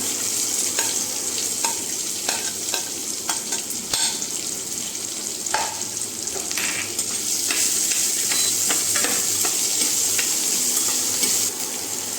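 Onions frying in a pan with cumin and mustard seeds for masala dosa, a steady close sizzle broken by the scraping and clinking of a spoon stirring, with no talking.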